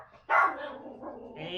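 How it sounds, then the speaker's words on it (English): A single sharp, close dog bark rings out indoors, followed by a fainter trailing yip or whine. "Hey, you! What are you barking at?"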